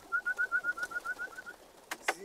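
A tumbler pigeon coos in a steady run of about a dozen soft, evenly spaced notes, fairly close but quiet, ending with a couple of brief rustling or flapping sounds.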